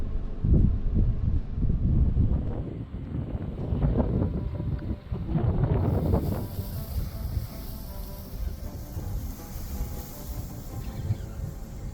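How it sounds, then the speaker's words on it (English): Steady wind blowing across a vast open landscape in the Western Cape, South Africa, a loud continuous rumble with gusty swells and microphone buffeting, no talk. "The only sounds we could hear was the wind blowing across the vast landscape."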